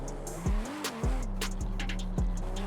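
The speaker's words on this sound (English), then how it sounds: "You want to handbrake turn and then catch it" Nissan R34 GTR in Forza Horizon 5, thrown into handbrake turns, engine droning with sharp pitch swoops as revs jump and tyres scrub, several quick bursts in succession, close and without talk.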